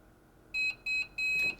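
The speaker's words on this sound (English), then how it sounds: "But when our timer goes off here" A heat press timer beeps three times in quick succession, sharp tonal electronic bleeps that are close and clear, the last one held a little longer, over a quiet room.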